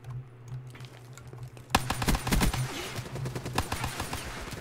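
Rapid bursts of enemy gunfire in Black Ops 3 on PC, starting abruptly partway through as a dense run of close, sharp shots over a low game hum.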